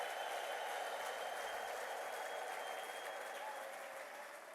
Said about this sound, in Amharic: እልልታ ጭብጨባ ምስጋና ለጌታ ታመጣላችሁ